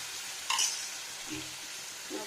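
Pumpkin and fish roe hitting hot oil in a pan, giving a steady close sizzle with a brief louder burst of stirring and clinking near the start, and no talk over it.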